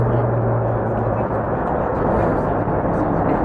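Military jets, F-18s and F-35s, roar overhead as a loud, continuous, low rumble filling the air, with voices talking over it.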